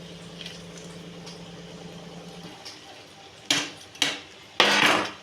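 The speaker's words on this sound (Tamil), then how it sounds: "இப்போது இந்த ஸ்டேஜில் நம்ம வந்து மீல் மேக்கரை கொட்டிக்கலாம்." Soya chunks tipped into a pan of cooked tomato-onion masala, giving three short, loud bursts of pouring and rattling near the end, after a low background hum.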